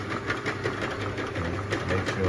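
The conveyor of a YTK-150C round bottle labeling machine runs with a steady, loud mechanical whirring and rhythmic rattle, continuous throughout without pause.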